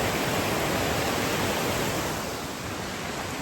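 A waterfall on a snowy spring hike, a steady broad rushing roar of falling water heard up close and unchanging, with no voices.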